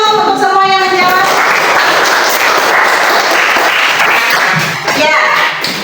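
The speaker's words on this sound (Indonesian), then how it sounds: "Tepuk tangan dulu untuk semua yang menjawab." Students in a middle school classroom applaud their classmates' answers, a dense, loud burst of clapping that fills the room from the start and fades slightly near the end.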